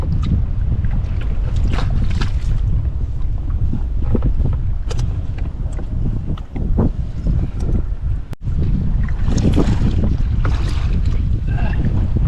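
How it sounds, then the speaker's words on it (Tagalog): Strong wind roars and buffets the microphone continuously, with gusts rising and falling over water-like rushing noise. "Grabe yung hangin, hinahanod kami."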